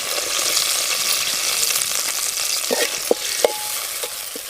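Onions frying in hot oil with bay leaves and cinnamon for chicken curry bagara rice, a loud continuous sizzle up close with a few sharp spoon clinks and scrapes near the end, no talking.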